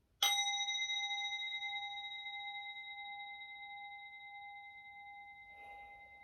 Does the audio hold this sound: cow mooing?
no